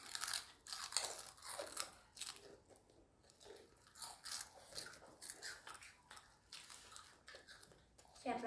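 Close, wet crunching and chewing of spicy papaya salad, with irregular bites and mouth sounds repeating throughout, quiet and intimate with occasional soft voice sounds.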